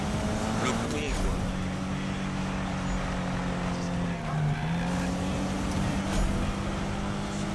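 Toyota Supra engine droning and shifting pitch while racing in Need for Speed 2015, a steady mid-loud motor tone with brief rises, heard under someone talking in French.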